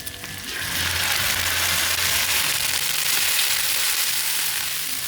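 Meat for La Paz batchoy, the Iloilo noodle soup, sizzles and fries in a hot pan, giving a loud, steady hiss close by that starts sharply and keeps going without talk.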